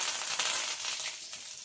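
Mustard seeds and curry leaves sizzle and crackle in hot oil with dried red chillies, a steady bright frying hiss with small popping bursts, close and continuous, with no voices.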